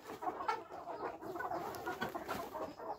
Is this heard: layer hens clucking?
yes